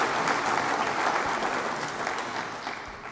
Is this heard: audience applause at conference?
yes